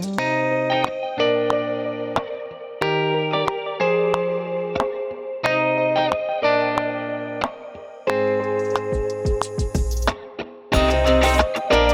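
Electric guitar plays a higher melodic part drenched in shimmering reverb, sustained chiming chords and notes with a lush echoing tail, loud and continuous with a few short picked passages.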